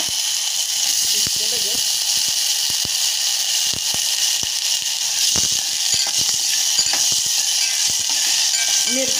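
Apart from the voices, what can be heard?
potatoes sautéing in a pan for fasting misal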